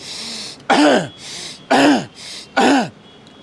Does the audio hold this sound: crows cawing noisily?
no